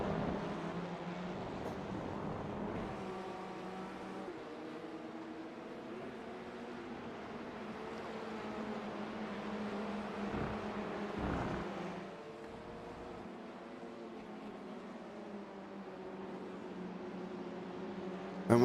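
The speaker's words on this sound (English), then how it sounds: "You just listen to the cars go round the race circuit" Touring cars racing round the Road America circuit in iRacing produce a continuous engine drone with rising and falling pitch as they pass, heard faintly and at a distance.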